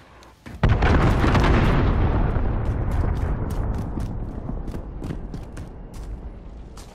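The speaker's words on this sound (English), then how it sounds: "Allied cruise missile launched." A cruise missile explodes in Call of Duty Modern Warfare: a sudden, loud close blast with a long rumbling decay, followed by scattered sharp cracks and pops of gunfire as the roar fades.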